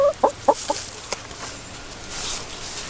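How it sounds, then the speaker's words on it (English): Four backyard barred rock hens cluck in a quick series of four close, sharp clucks, then a single cluck and quieter scattered sounds over a faint background. "So our barred rock hens, we have 4 of them."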